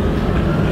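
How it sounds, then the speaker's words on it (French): Inside a Barcelona metro train during a ride, a loud, steady low rumble of the carriage fills the brief moment with no other sounds standing out. "là on est dans le métro comme vous pouvez le voir avec Maxime"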